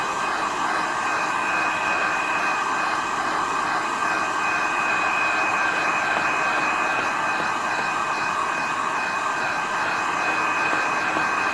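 A heating tool blows hot air in a steady, continuous whooshing hiss with a faint high whine, close and unbroken for the whole stretch, with no talking.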